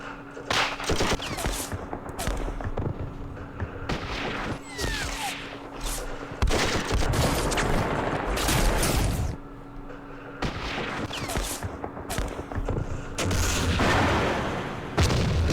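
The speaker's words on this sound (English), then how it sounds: "probably a 57mm recoilless rifle." Rapid volleys of weapon fire and heavy booms from a 57mm recoilless rifle in the Vietnam War strategy game Campaign Series Vietnam, loud bursts repeating in clusters with short gaps between them.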